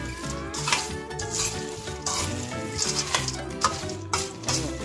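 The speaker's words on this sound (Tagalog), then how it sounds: "Saka ulit natin siya haluin ng mabuti." Peanuts for adobong mani being stirred in a hot pan, a busy sizzle with repeated scraping and clattering strokes of the utensil against the pan, close and fairly loud, with no talking.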